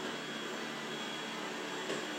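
A Dreame L10s Ultra robot vacuum mop runs with a steady, even whirring hiss of suction, unchanging and fairly quiet, with no voices.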